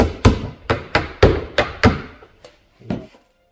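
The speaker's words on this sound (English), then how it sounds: "I'm just going to rest my chisel along this as a guide and slowly work down on both sides" A wood chisel is tapped with a mallet while resting against a guide to cut a 45-degree joint, about eight sharp, close knocks in an uneven rhythm that slows and fades toward the end.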